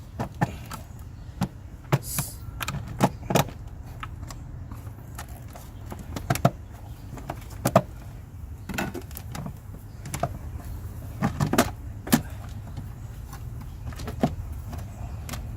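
Sharp clicks and knocks as a flathead screwdriver pries a trim piece out of a 2003-2007 Honda Accord during an air filter change, scattered irregular snaps over a low steady hum.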